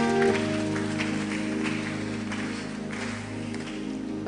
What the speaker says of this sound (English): Give a clap of praise to Jesus.